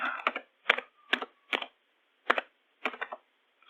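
Keys pressed in short clustered bursts on a computer keyboard while a Java command is entered, several quick clicking runs separated by pauses, close and fairly crisp with no talking.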